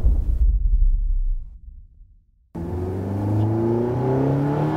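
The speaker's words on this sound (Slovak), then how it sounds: "Bolo to Porsche 918 Spyder." A Porsche 918 Spyder hybrid hypercar engine roars at low pitch, then cuts out to near silence before a rising, whirring, close acceleration tone builds and holds loud.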